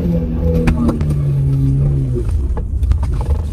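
Car engine cranking and revving up after stalling, a rough roaring rise close by with a few short voices mixed in.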